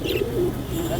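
Racing pigeons at the Mirpur 14 pigeon market give soft, low coos in a short burst, close by, with a hint of chatter in the background.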